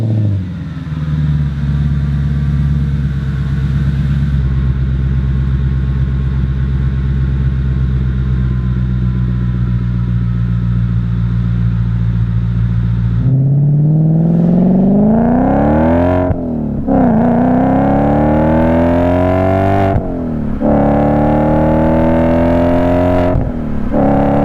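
An Audi S4 fitted with a Fast Intentions exhaust idles loudly with a deep, steady drone and then takes several sharp throttle blips, each revving up and dropping back to a burbling idle, close and with no talk.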